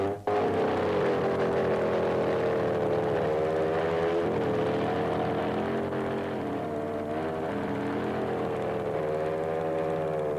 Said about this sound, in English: And the engine roars into life to commence the day's activities.